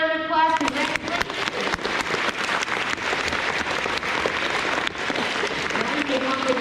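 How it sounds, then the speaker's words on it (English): Sustained applause from a crowd at an elementary school awards ceremony fills the room, dense clapping continuing steadily for several seconds after a brief voice at the start. "Let's give them all a round of applause."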